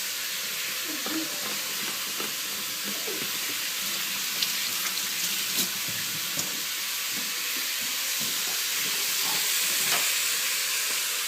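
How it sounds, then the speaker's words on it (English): Hands are washed under a running kitchen tap while lamb fries nearby for a runner bean stew, giving a steady broadband rush of water with a sizzling background and a few light knocks. "I'm gonna wash my hand, because when you touch meat, you have to wash your hands"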